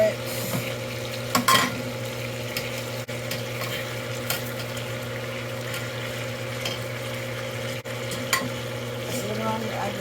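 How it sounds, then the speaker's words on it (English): Onions, peppers and carrots sautéing in a hot pan, a continuous close sizzle with a steady hum underneath and occasional stirring clatters, no talking. "You add your onions, your peppers, your carrots."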